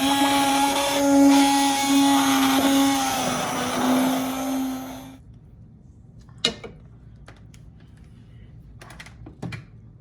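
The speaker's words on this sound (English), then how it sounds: "So I'm just going to put that in and start blending" An immersion blender whirs loudly through shepherd's pie soup for about five seconds with a steady motor whine, then cuts out, leaving a few scattered clicks and clatters in a quiet kitchen.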